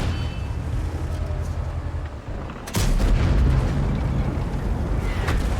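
Tank cannon shot in a tank video game with a line of stationary tanks firing, a sharp broadband boom landing mid-clip over a steady low engine rumble that swells louder afterward.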